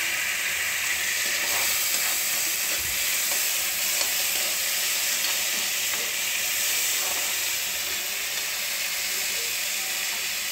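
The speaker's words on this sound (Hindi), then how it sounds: "और अब मैं इसमें टमाटर भी ऐड कर दूँगी।" Tomatoes sizzle loudly in frying egg curry masala in a pan, a dense, steady crackling hiss close by with occasional stirring scrapes.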